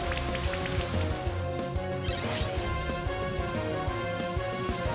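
Rain Dance from Pokemon Shining Pearl fills the space with a steady, dense rain hiss over layered game music, loud and continuous with no talking.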